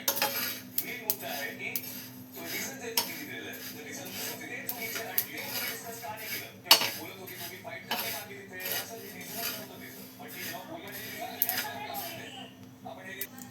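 Hulled sesame seeds dry-roast in a pan while a utensil stirs them, giving repeated metallic scrapes, clinks and rattles in an uneven rhythm, close up and fairly loud, with a sharp knock near the middle.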